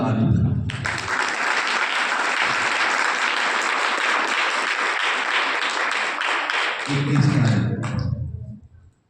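A church congregation gives loud, vigorous applause during a worship service, a steady wall of clapping for about seven seconds that surges briefly near the end, then cuts off.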